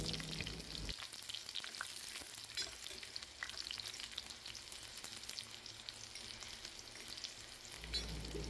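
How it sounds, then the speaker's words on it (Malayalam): Small whole shallots sautéing in olive oil with cumin for a chickpea masala, a steady close sizzle and crackle with occasional stirring, alone without talk, briefly quieter at the start and end. "ഈ ചെറുള്ളി ബ്രൗൺ കളർ ആവുന്ന വരെ നന്നായി വഴറ്റി കൊടുക്കണേ."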